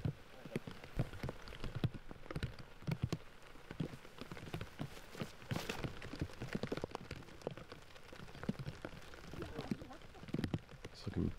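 Steady rain falling outdoors at a disc golf tournament round, an even patter of drops with scattered sharper taps, faint and continuous, with speech heard among the rain.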